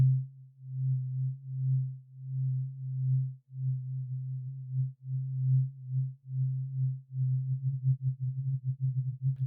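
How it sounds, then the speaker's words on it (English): Granular synthesis on a synthesizer with smoothing and intensity turned up gives a steady low tone broken into soft, swelling grains that turn faster and more choppy toward the end, clean and alone. "if I turn on granular synthesis in this particular synth and turn the smoothing up"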